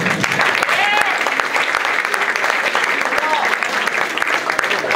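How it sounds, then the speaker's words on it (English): An audience at a high school college signing ceremony claps steadily for five seconds, a dense, even patter of many hands with faint crowd murmur underneath. "Let's give a round of applause to Mr. Tanner Spaulding."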